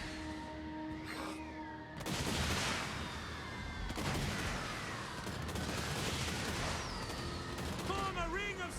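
Empire rocket battery launching in the fantasy strategy game Total War: Warhammer 2: a few loud whooshing, rumbling volleys amid a noisy battlefield din, with short voiced unit responses.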